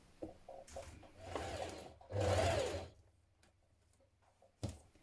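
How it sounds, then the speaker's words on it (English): A sewing machine stitches seam tape onto a knit dress in two short, soft bursts close by, followed by faint handling clicks and a sharp tap. "So let's stitch the tape in place."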